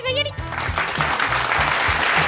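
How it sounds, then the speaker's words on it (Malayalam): A group of children at a summer camp in Kozhikode bursts into applause right after a short spoken voice, the clapping dense, sustained and fairly near. "അപ്പോൾ അവർ കൈയടിച്ചല്ലേ"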